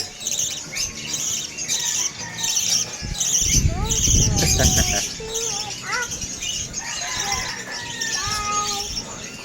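A young bird being hand-fed squawks repeatedly in short rising and falling calls, close by, mixed with rustling and a burst of low noise, while people talk nearby.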